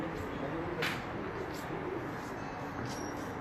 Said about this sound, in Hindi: ये सामने है एक कबूतर।